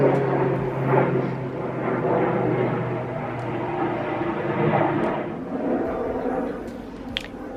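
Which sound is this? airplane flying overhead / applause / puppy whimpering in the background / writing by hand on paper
airplane flying overhead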